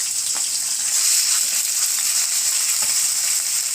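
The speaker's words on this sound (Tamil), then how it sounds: "எண்ணெய் சூடானதும் இந்த பொடிசாக கட் பண்ணியிருக்க சிக்கனை சேர்த்துருங்க." Finely chopped chicken frying in about a tablespoon of hot oil, a loud, steady, hissing sizzle heard up close with faint occasional stirring, no voices.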